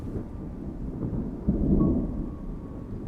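Thunder rumbles low and heavy across the savanna ahead of the rains, a distant rolling growl that swells briefly midway before settling back.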